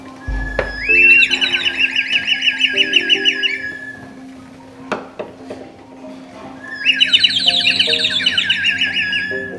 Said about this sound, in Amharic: አየሩ ውሃውን ሲያንተከትከው የወፍ መጻይ ድምጽ ይፈጥራል